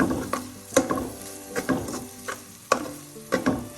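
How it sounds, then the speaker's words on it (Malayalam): Onions frying in a pan with salt being stirred, giving a steady sizzle broken by several sharp scraping strokes of a spoon at irregular intervals, close and alone with no talk. "എല്ലാം കൂടെ നന്നായി മിക്സ് ചെയ്യാം."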